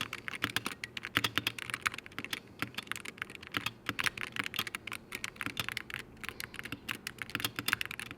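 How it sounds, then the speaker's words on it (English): Close, steady clacking of typing on a custom mechanical keyboard fitted with white Glorious keycaps, with bursts of rapid keystrokes and brief pauses throughout, no voices. "that's my custom keyboard. Here's a little sound test."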